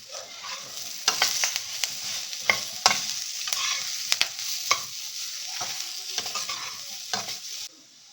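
Raw banana palya with pepper and salt being stirred in a pan: a steady sizzle under repeated sharp clicks and scrapes of the spoon against the metal, irregular and close, with no talking.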